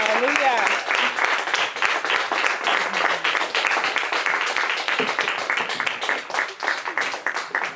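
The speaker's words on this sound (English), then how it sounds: "please give him a warm welcome and a warm round of applause" A church congregation applauds warmly at a live-streamed service, sustained dense clapping filling the room, with voices calling out over it.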